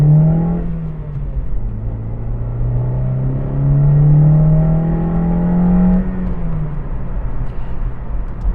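A Honda CR-Z engine with a modified air intake rumbles deep and throaty nearby, its pitch rising and falling as it revs, then settles into a steady low drone.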